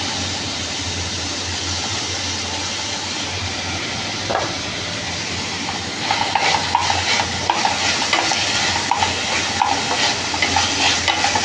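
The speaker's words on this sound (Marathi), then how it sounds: "त्या कांद्यामध्येच मी ही मुगाची डाळ भिजत ठेवलेली ती आता ह्याच्यात टाकते." Soaked moong dal tipped into a pan of sautéed onions, a steady sizzle under repeated spatula scrapes and taps that grow busier partway through, no talking.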